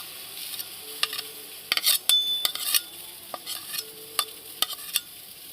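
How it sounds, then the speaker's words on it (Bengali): Semolina being stirred with chili flakes and curry leaves in a pan, soft scraping strokes and light clinks of the spoon over a faint steady sizzle, close and fairly quiet with no talk. "দিয়ে আমি এটাকে ভালো করে নাড়াতে থাকবো"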